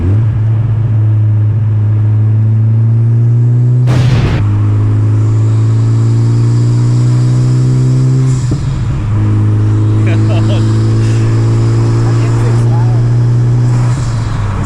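A K-swapped Honda Civic Si engine with boost drones loudly and climbs in pitch through several gears, with brief shift breaks between pulls, close up and continuous.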